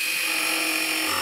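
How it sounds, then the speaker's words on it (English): A power drill whines steadily at high speed, pre-drilling a hole in a TimberTech composite deck rail, close and loud with no pauses. "So I'm gonna pre-drill that hole."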